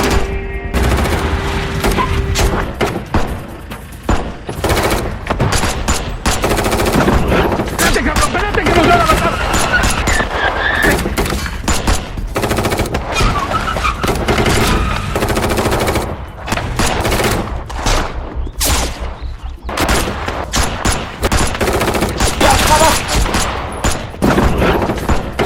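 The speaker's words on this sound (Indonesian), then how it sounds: "baku tembak pun tak lagi bisa dihindarkan" Dense, loud machine-gun fire in a shootout, sustained rattling bursts that continue throughout with scattered heavier booms, and voices mixed in beneath the gunfire.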